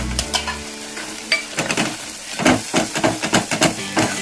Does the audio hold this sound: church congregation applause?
no